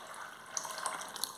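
Water is poured from a tap or container into a mixing vessel as a measured 220 ml for homemade soap made from used cooking oil, a steady close splashing trickle with a few brighter drips and no talking.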